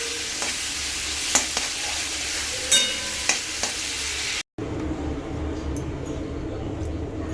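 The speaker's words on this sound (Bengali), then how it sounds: "এই যে মশলা করছে, এটা কিন্তু তেল না, মশলার জল।" Spices with ginger-cumin paste cook in watery masala in a pan, giving a steady low simmering sizzle with a few sharp clinks and scrapes of stirring near the start, a brief dropout, then continued bubbling.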